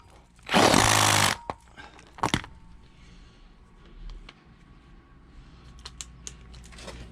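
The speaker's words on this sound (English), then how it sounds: "And then we get in the step drill, making sure there's nothing behind it can get damaged." A step drill bores through sheet metal while wiring a Suzuki GS850 motorcycle, giving one loud, harsh grinding burst of under a second, followed by a short second bite and then quiet workshop handling noises.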